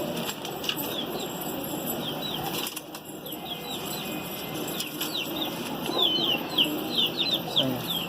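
Pigeons flutter and flap their wings in bursts, with soft rustling and flurries of wingbeats nearby against a busy outdoor background.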